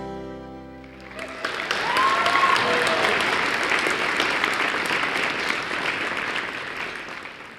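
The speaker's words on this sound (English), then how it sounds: "Another round of applause" Audience applause fills a high school talent show venue, a dense steady clapping that swells after a musical ending and holds loud throughout, with some crowd noise mixed in.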